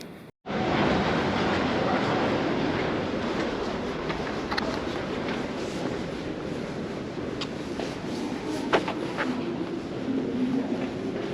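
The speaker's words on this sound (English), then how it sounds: "Please stand behind the yellow line as the train approaches." A Bakerloo line underground train roars into Maida Vale station with a loud, sustained rumble and occasional metallic squeals. The noise is close and steady.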